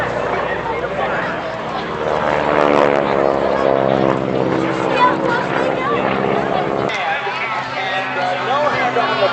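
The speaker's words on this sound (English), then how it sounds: "Watching the solos cross in front of each other, into each other, passing canopy to canopy, just 15 feet apart." Loud, steady propeller engine drone as GEICO aerobatic team airplanes pass each other at an airshow at Jones Beach, the tone shifting sharply as they cross, with someone speaking over it.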